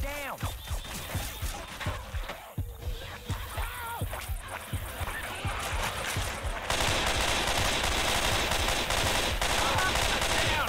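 Rapid automatic gunfire from Left 4 Dead 2 rattles on for the whole stretch, dense and loud, with a few scattered voice fragments underneath.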